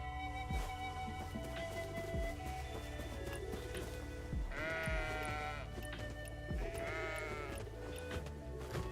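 A goat bleats repeatedly over a steady background, with two long, loud wavering calls standing out among shorter bleats and clatter.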